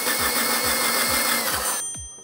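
A motorized drain auger runs while clearing a bathtub drain down to the P-trap. It makes a loud, steady whine with rhythmic low thumps, then cuts off abruptly, leaving a brief fading ring.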